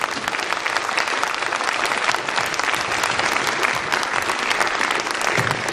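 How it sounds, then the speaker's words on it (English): Audience applause for a four-person panel at a business forum event in Hong Kong, steady dense clapping filling the room for the whole stretch without a break. "give them a round of applause"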